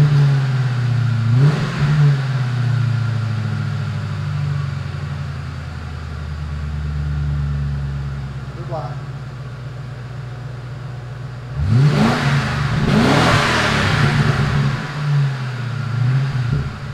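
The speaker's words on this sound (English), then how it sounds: "we're getting ready to start it up for the first time" A Mercury Panther-platform car fitted with AP Xlerator mufflers and Walker dual exhaust fires up and revs, a deep steady idle broken by two strong throttle blips near the end, loud and close with no talking.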